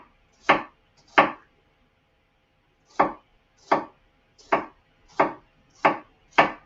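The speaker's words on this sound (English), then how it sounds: "now I'm going to cut through the onions 3/4 way" A knife chops through onions on a cutting board in sharp, distinct strokes: two quick cuts, a pause, then six evenly paced chops, close and clear with no talking.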